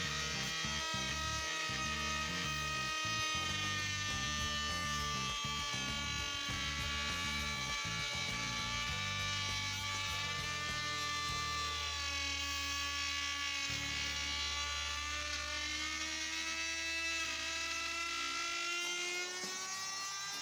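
A Kentaro or JLD electric router fitted with a flush trim bearing bit trims a wooden edge, giving a loud, steady, high-pitched motor whine with a shifting cutting tone that runs continuously throughout.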